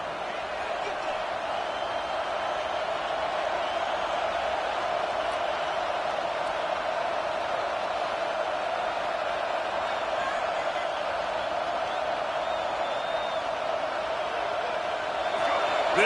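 Stadium crowd roaring during a college football game against South Carolina on third and goal, a loud sustained wall of noise with a steady hum and no break over sixteen seconds.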